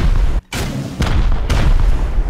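A rocket launcher fired in the game Rust, loud booming blasts following a brief silent gap, with a heavy rumbling low end that stays dense throughout.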